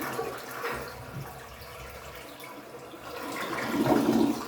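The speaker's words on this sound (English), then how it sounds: "As you can see, the toilet flushed perfectly normal." A toilet fitted with a Prevent-A-Clog device flushes with a rushing, gurgling swirl of water that swells toward the end, heard up close in a small room with no talking.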